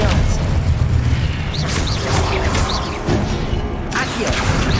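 Spells cast in Hogwarts Legacy, a fire spell, a blasting curse and a disarming charm, come as a dense run of booms, bursts and magical crashes over low rumbling game ambience, with no voice heard.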